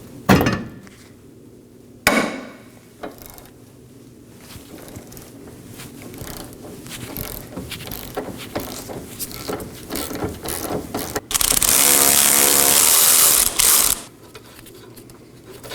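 Ratchet working a rear knuckle bolt loose on a 2018-2024 Chevrolet Equinox, a close clicking run of pawl strokes with metallic taps, ending in a loud steady burst of rapid ratcheting before quieting.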